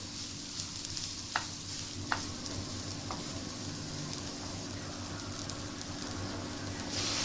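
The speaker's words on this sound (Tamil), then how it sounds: "ஸோ அந்த 3 வெங்காயத்தை உள்ளே சேர்த்து அந்த எண்ணெயிலே திருப்பி அந்த வெங்காயமும் வதங்கணும்." Three onions sauté in hot oil in a Tamil-style kitchen, a steady soft sizzle running throughout with a few sharp clicks of a stirring spoon against the pan, no talk.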